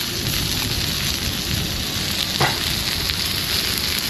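Food sizzles steadily on a collapsible charcoal grill in a park, with steak, shrimp kabobs and lobster cooking in butter; a dense, constant crackling hiss fills the scene up close, with one brief louder pop midway and no talk.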